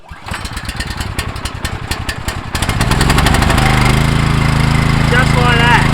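A STIHL RB800 gas pressure washer is pull-started: rapid sputtering chugs as it catches, then the small engine roars up to a loud, steady high-pitched running drone close by.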